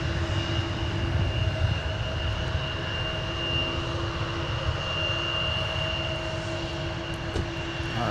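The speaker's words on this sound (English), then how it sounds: "here's our Delta Heavy departing to Dublin, taxiing to the south parallel for departure" A Delta heavy jet with GE CF6-80 engines taxis at an airport, a steady loud engine roar with a sustained whine holding evenly throughout.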